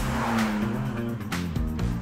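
McLaren Artura Spider sports car driving along a narrow road, close engine drone with a brief burst of tire and road noise, loud throughout and no talk.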